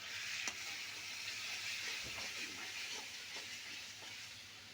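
Chicken masala with black pepper and garam masala sizzles in a hot pan, a steady faint hiss with quiet scraping strokes of the spoon as it is stirred.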